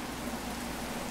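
Rain falling in the video game Minecraft, a steady even hiss of rainfall with no distinct drops or thunder, short and moderately quiet, no voices.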